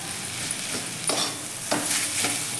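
Grated coconut and jaggery are stirred in ghee for coconut burfi, a soft continuous sizzle with a few scraping strokes of the spoon, close and moderately quiet, with no talking.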